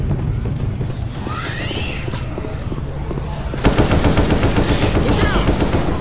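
AK assault rifle fired in a video game, with rapid automatic bursts that start up loud and close partway through and continue steadily, over a background of game noise and faint voices.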